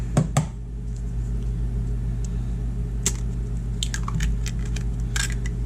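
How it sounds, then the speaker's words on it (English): Room-temperature eggs plop and squish into banana nut muffin batter in a home kitchen, with a few soft wet clicks over a steady low background hum. "Now we're going to add the eggs."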